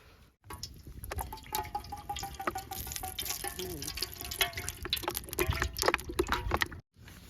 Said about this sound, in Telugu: ఈ కాటుమూండ్రు నుంచి తీసుకొచ్చుకున్న ఆయిల్ పోసుకుందాం